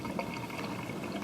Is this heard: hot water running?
yes